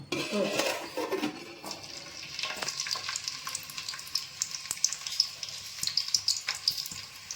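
Two chopped onions drop into hot oil with a burst, then a steady crackling sizzle and light popping continues, close and moderately loud.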